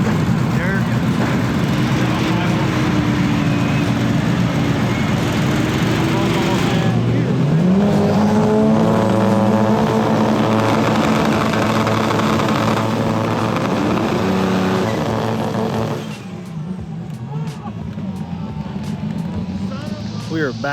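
An 800-horsepower turbocharged Honda Civic drag racing, a loud sustained engine roar with rising gear-pull tones and a sudden drop in intensity near the end, close and dominant over a faint voice.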